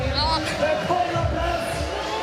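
Crowd at an outdoor pool during the Døds diving world championship final, murmuring and booing unhappily at the judges' score, a steady dense babble with voices talking over it.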